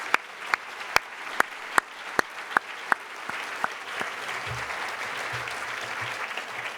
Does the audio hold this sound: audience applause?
yes